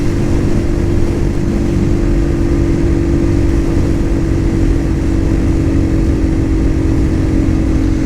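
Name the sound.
Cougar Vitacci XMT 250 motorcycle engine lugging on test ride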